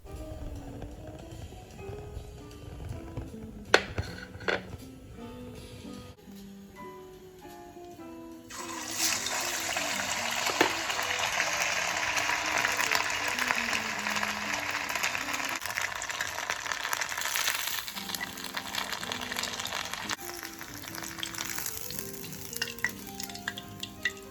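Mini burgers deep frying in oil with a little sesame oil, a steady broadband sizzle that swells loud and dense midway and holds, with faint clinks and kitchen clatter underneath.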